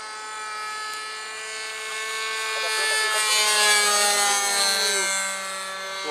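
Engine of a model float plane, a Pastinha Artal on floats, running steadily and loud throughout with a high whining harmonic buzz whose pitch rises and falls slightly as it passes nearby outdoors.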